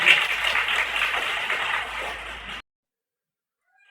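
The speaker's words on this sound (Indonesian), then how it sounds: "Tepuk tangan untuk Indonesia" A crowd at a religious talk claps for a couple of seconds, dense and fairly loud, then stops abruptly into silence.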